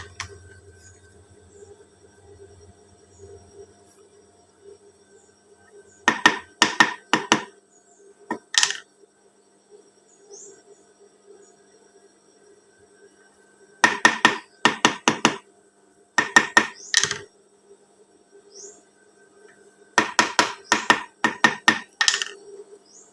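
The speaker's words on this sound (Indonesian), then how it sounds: "ini bisa dipukul-pukul pakai palu" Hammer tapping fabric pieces for a school teacher's PKK uniform shirt pocket, in several quick bursts of sharp, close taps with pauses between groups over a quiet background.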